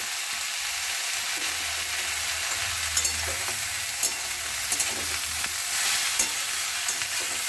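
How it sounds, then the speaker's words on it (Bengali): Bitter gourd stirred with salt in a hot frying pan, a steady close sizzle with scraping utensil clicks scattered through, no talking. "নুন দিয়ে কিছুক্ষণ নাড়াচাড়া করব"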